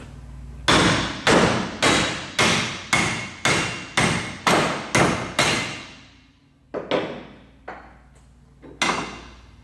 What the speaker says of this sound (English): here's where a hammer can come in handy